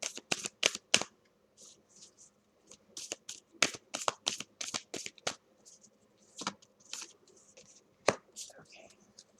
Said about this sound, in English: So I'm going to pull from the Moonology card just 3 cards